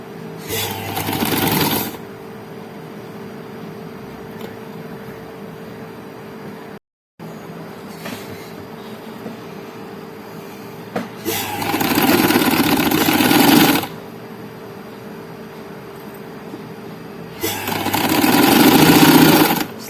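Sewing machine stitching a frock, running loud and close in three short bursts, each a fast whirring hum with pauses of quiet between them.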